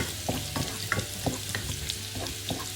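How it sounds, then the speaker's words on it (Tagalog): Garlic sautés in hot cooking oil, giving a continuous close sizzle with occasional soft clicks of stirring, moderately quiet and without any voices. "Ayan guys, mainit na ang ating mantika. I ilagay na natin ang ating bawang. Igisa natin yung bawang."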